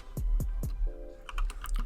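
A computer keyboard being typed on during video editing work: a few close, distinct key presses spaced evenly at first, then a brief tone and a quicker cluster of lighter clicks.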